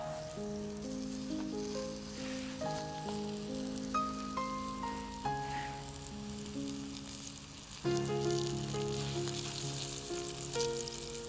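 Food frying in a pan for an iftar dish, a soft, steady sizzle and crackle heard beneath louder melodic background music.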